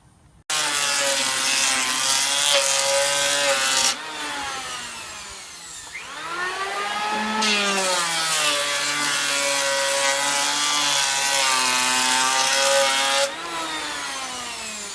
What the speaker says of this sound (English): I've planed one side pretty much as close to the line as I'm really willing to go with the planer